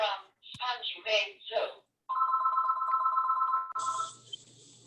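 A telephone rings during an online public commission meeting: a steady electronic ringing tone lasting about two seconds, loud and close, after a few seconds of people talking, then a brief higher-pitched tone.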